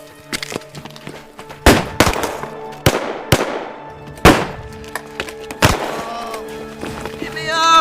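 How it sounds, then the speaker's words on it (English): Gunfire rings out in a western action film shootout: about eight loud, sharp shots, irregularly spaced, with the sound of the scene continuing between them. "Sergeant, you and Jefferson provide cover fire"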